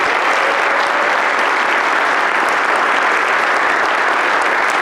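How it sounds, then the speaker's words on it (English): An audience at a National Honor Society induction ceremony at Whitman-Hanson Regional High School breaks into loud, sustained applause, a dense wash of many hands clapping steadily for several seconds with no voices over it. "How about a big round of applause for that?"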